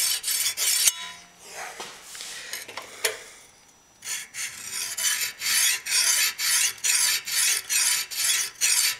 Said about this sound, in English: recurves can be sharpened with flat rectangular stones as well, like the Lansky system